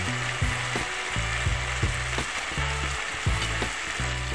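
Chili powder sautéing in oil for a potato and brinjal curry, a steady close sizzle broken by regular scraping strokes of a spoon stirring the pan, with no voices.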